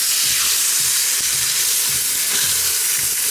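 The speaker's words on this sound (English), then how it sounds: "I'm going to go ahead and sear one side, or one piece of the roast" A piece of pot roast sears inside an Instant Pot, giving a loud, continuous sizzle and hiss of meat browning in hot oil, close up with no talking.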